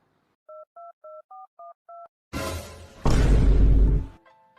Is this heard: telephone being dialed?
yes